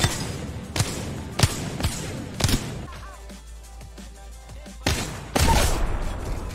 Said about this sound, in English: There's a headshot sound.